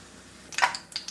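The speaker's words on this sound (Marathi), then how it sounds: "जिरे मोहरी तडतडले" Cumin and mustard seeds crackle in about two large spoons of hot oil, with a quiet start followed by a cluster of sharp popping clicks and a few scattered pops near the end.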